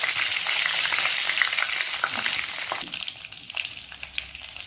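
Asafoetida and spices tempering in hot oil for a tamarind pongal, giving a loud, steady close-up sizzle and crackle that eases slightly toward the end.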